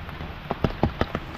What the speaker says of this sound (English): you can see the gutter is collecting rain, water, collecting the water